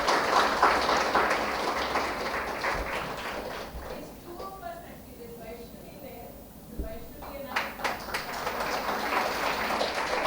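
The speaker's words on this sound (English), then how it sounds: "Can we give a good big round of applause, please?" Audience applause at a memorial lecture on palliative care and mental health, a steady clatter of many hands that thins in the middle and swells again toward the end, with no one speaking over it.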